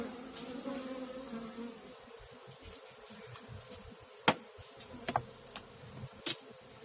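A steady, close buzzing of many honeybees in a hive fills the background, with a few sharp taps and knocks on top.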